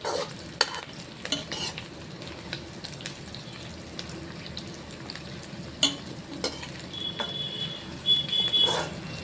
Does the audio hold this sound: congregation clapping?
no